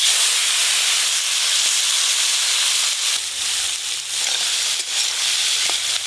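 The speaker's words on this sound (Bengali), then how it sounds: "মালাইকারির জন্য এবার চিংড়ি মাছগুলো ভেজে নেব।" Prawns fry in oil for a prawn malai curry, giving a steady, loud sizzling hiss with a broad steamy texture and small crackles throughout, with no talking.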